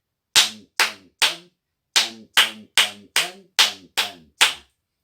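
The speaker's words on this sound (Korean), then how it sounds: "활성화시키고 깨우는 체제는 응원박수입니다" Ten sharp, crisp hand claps in a steady cheering rhythm: three quick ones, a short pause, then seven more evenly spaced, close and clear with no talking.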